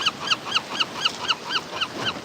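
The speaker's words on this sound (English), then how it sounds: "Attack of the seagulls." Gulls call repeatedly near people feeding birds, about nine sharp squawks in steady succession, loud and close with no talk over them.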